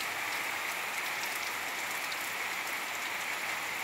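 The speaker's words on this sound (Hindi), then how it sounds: "बारिश देखिए कितना स्पीड हो गया है।" Heavy monsoon downpour pours down steadily, a dense, loud, unbroken hiss of rain drumming on surfaces with no voices over it.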